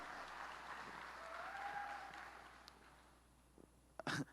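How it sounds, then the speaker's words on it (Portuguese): A church congregation gives a soft, sustained round of applause, a diffuse patter of many hands that swells gently and then fades, ending with a few louder close handling bumps. "Vamos aplaudir a liderança de criança?"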